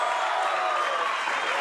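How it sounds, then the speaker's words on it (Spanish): A crowd claps for the mayor at a live stage show, a brief burst of steady, even applause heard fairly faintly. "Un aplauso para el alcalde."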